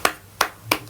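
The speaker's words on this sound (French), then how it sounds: "Donc voilà, vous pouvez m'applaudir." Three sharp, close hand claps from one person in a home, evenly spaced under a second.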